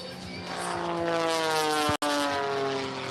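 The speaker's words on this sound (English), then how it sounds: "It features a custom-built 350 horsepower motor, advanced capacity propeller, short wings, and a streamlined canopy, turning this airplane into a lean air show machine." A modified Super Chipmunk aerobatic airplane with a custom 350-horsepower engine roars past at an air show at McMinnville Airport, Oregon: a loud, steady propeller drone with shifting pitch as it flies by.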